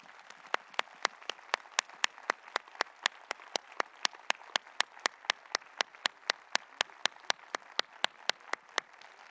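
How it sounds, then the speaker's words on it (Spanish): Steady, evenly spaced clapping from a conference audience runs for about nine seconds, sharp individual claps in a regular rhythm rather than a dense crowd roar. "Un gran aplauso para ellos."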